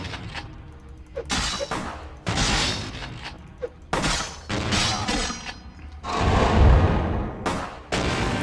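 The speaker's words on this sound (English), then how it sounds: "stop the guy with the shotgun from hitting me with the shotgun" Shotgun blasts in the Vampire: The Masquerade - Bloodlines video game, several loud booming shots spaced a second or so apart with harsh cracking tails, close and dominant.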